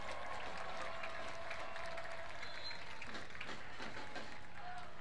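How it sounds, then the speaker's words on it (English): Stadium crowd applauding a substituted Chattanooga FC attacker at a soccer match, a broad steady wash of clapping and cheering from the stands, continuous and fairly distant, with a commentator's voice faintly underneath. "A well-deserved round of applause"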